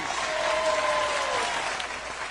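A studio audience on the kids' game show Legends applauds and cheers steadily, a dense, loud wash of clapping that fills the whole moment without a break.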